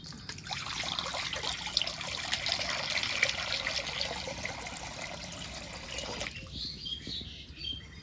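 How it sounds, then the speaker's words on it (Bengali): Water is poured into a wok to boil chowmein, a soft continuous trickling and splashing that stops after about six seconds, leaving faint background sound. "এবার চাউমিনটা সেদ্ধ করার জন্য কড়াইতে জল দিয়ে দেবো"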